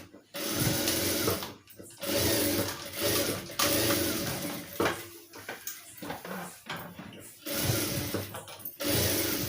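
A sewing machine stitches the neck edge of a blouse in several runs of steady, rapid whirring with brief pauses between them. A voice talks quietly underneath.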